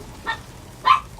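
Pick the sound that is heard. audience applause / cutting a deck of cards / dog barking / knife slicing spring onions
dog barking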